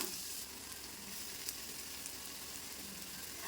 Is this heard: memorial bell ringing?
no